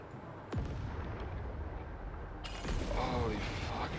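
Enemy laser cannon fire in Helldivers 2 roars as a dense, sustained blast with sweeping tonal whines layered over rumbling noise, swelling louder toward the end amid heavy battle chaos.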